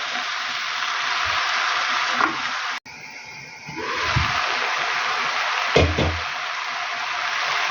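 Steady sizzling of dried mushrooms frying in a pan, a continuous hiss with a few soft stirring knocks and scrapes.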